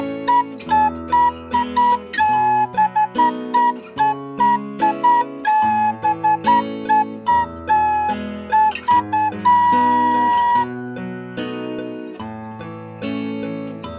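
A programmed Irish whistle or recorder part, with one or two notes articulated to a melody's rhythm, pipes bright repeated notes over a fuller backing of bass and accompaniment, loud and continuous.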